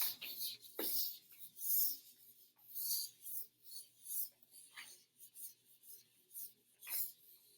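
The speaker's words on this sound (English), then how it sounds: "I am going to erase this." An eraser rubs out writing on a board in a rough series of rasping strokes, about ten bursts with short pauses, close and moderately loud, with no talking.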